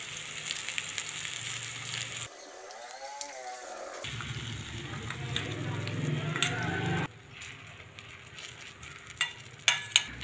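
Egg and tomato omelette sizzling in a pan, a steady close frying hiss that drops out and returns, with faint clinks near the end.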